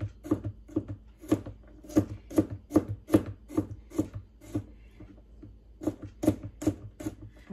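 A knife thinly slices cabbage on a board in quick, regular chops, about two per second, crisp and close with a short pause before the rhythm resumes.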